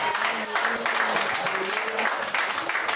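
A church congregation applauds together, dense steady clapping filling the room at an even level throughout, with faint voices and tonal sounds mixed underneath.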